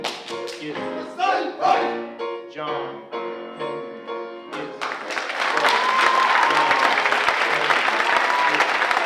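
At a live Thursday poetry show in a college room, a voice speaks for the first few seconds, then audience applause swells in and continues steadily to the end, dense and fairly near.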